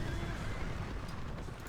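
A horse whinnies amid the din of a fantasy battle in Battle for Middle-earth II, the neigh faint and blended into a dense, continuous wash of game noise.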